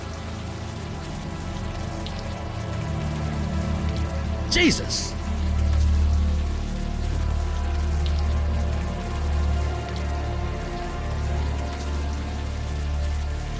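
Steady warm rain falls in the video game Unavowed, a continuous soft patter on surfaces throughout, with a voice exclaiming briefly partway through.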